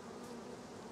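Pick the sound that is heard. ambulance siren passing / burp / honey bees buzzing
honey bees buzzing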